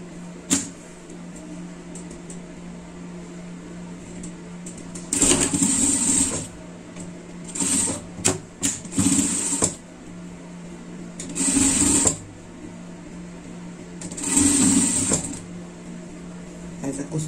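Sewing machine stitching seams on a creative pet-pattern fabric project, running in several short whirring bursts of one to two seconds with pauses between, close and fairly loud, with someone speaking Portuguese in the gaps.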